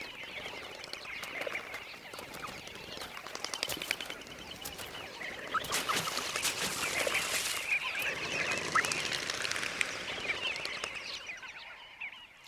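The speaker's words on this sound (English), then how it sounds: "Flocks of Namakwa sandgrouse fly in at first light to drink." A flock of Namaqua sandgrouse arrives at first light to drink, a dense, continuous chorus of overlapping chirping calls from many birds, fairly close and rising in the middle.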